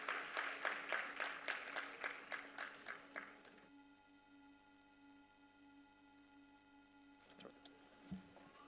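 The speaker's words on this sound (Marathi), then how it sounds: "जोरदार टाळ्यांचा वर्षाव करूया मंडळी" An audience claps loudly and steadily at a public political speech event in Maharashtra, then the clapping cuts off and is followed by a long quiet pause and a brief sound near the end.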